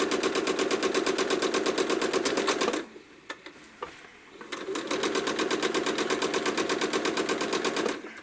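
A sewing machine stitches quilted feathers along an appliqué leaf in rapid, even bursts, running steadily, pausing briefly with a few light clicks, then resuming at the same fast rhythm, close and clear.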